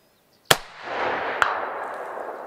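A rifle shot during hunting-style positional shooting practice: one sharp loud crack followed by a long rolling echo, then a second fainter impact-like crack about a second later as the round strikes the target, outdoors with no talking.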